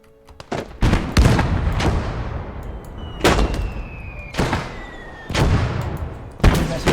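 Mortar fire in a video game battle: several heavy booms land at irregular intervals, each a sharp blast with a long rumbling tail. The impacts are loud and close, with short gaps between them.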